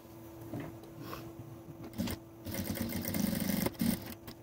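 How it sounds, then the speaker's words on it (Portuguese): A sewing machine stitches fabric and lining together along the edge of a half-moon pouch, a steady close mechanical whir with a faint hum, speeding up and growing louder near the end. "passar uma costurinha bem na beiradinha, só pra juntar tudo"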